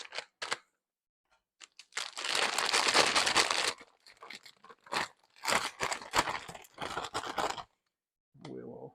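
A plastic bag crinkles and rustles in bursts as it is handled, cut and stuffed with smoked salmon deviled egg filling scraped from a bowl, with short pauses and a brief voice at the end.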